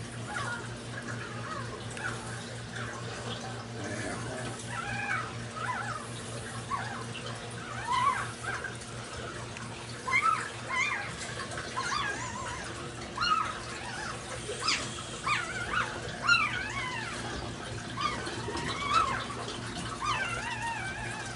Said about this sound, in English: Puppy babies in the background. Yeah, I hear the puppies.